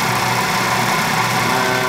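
An electric motor drives a heavy-duty flywheel on a homemade Bedini-style generator, giving a steady, loud mechanical hum and whir that holds even and continuous throughout, with no voices.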